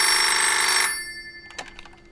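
An old landline telephone bell rings loudly for under a second, then cuts off and leaves a faint ringing decay and a few soft clicks in a quiet room.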